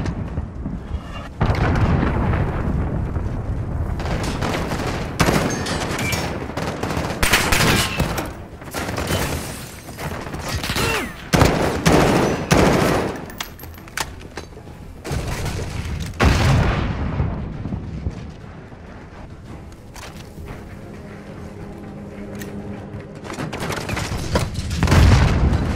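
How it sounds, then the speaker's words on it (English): Cruise missile strike in Call of Duty: Modern Warfare, with a long series of heavy, booming explosions and crashing debris that rise and fall in waves, tailing off into a quieter rumble near the end. "Allied cruise missile launched."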